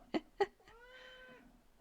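A cat meows close by, giving a single drawn-out, rising-and-falling call that follows two sharp knocks and ends in quiet.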